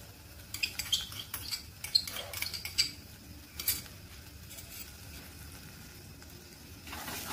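Palak paneer with curd and fresh cream being stirred in a pan, soft scraping taps and clicks in an irregular rhythm over a faint low sizzle, quieter toward the end, with no talking.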